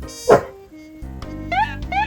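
A dog at home in a room gives one loud bark followed by a few softer yips and whimpers, close by, with quiet talk around it.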